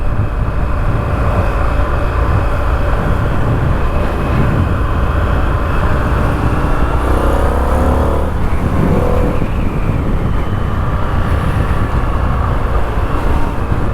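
An Indian FTR 1200S motorcycle engine pulls in sport mode, a loud, continuous drone with rising pitch under heavy wind rumble, with no voices.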